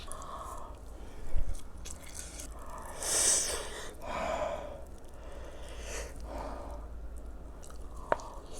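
Close-up biting and chewing of kimchi and Spam, soft crunches and moist squishy chews spaced irregularly, quiet and near with no talking.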